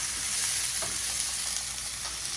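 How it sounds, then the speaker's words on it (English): Fresh cherry tomatoes sizzle and fry in a pan for a simple tomato sauce, a steady close crackling hiss holding at an even level throughout with no talking. "we're adding our fresh cherry tomatoes, and we're just going to let that cook for about a minute so it caramelizes"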